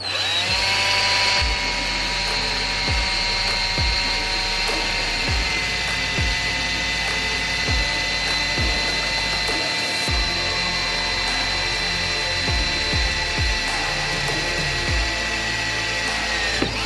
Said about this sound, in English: I'm gonna drill it 2 steps